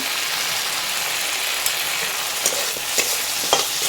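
Spices and chilies fry in oil for a cucumber curry cooked without onion or garlic, making a steady, close sizzling hiss broken by a few light taps of a spoon against the pan.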